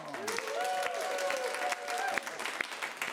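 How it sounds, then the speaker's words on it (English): A crowd at an improv comedy show gives a polite round of applause, steady dense clapping with a voice speaking over it at first and the clapping thinning toward the end. "A little polite round of applause, Portland style"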